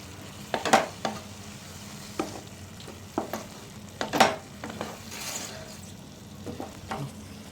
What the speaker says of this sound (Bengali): এইভাবে এটাকে আস্তে আস্তে নেড়ে এটাকে ভেজে নেব